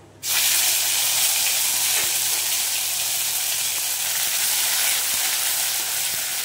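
Green chili paste and ginger paste hit hot oil in a pan with a sudden loud sizzle that holds as a steady, close hiss throughout.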